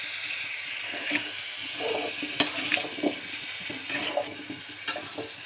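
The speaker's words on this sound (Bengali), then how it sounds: "তো দিয়ে আমি 5-7 মিনিট খুব ভালোভাবে কষিয়ে নেব।" Pumpkin mash with cumin and coriander powder sautéing in a pan for a village-style dish, giving a soft, steady sizzle broken by intermittent scraping stirs and a few sharper clinks, with no talking.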